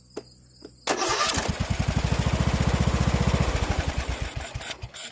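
Craftsman YS4500 17.5 hp lawn tractor engine with a new coil cranks with a starter whir, then catches and runs with a fast, regular chugging pulse, close and loud, before easing down.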